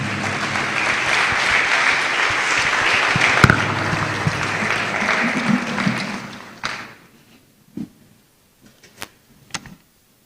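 An audience applauds after an inaugural lecture, dense sustained clapping for about six seconds that fades out, followed by a few isolated thumps and clicks in a quiet room.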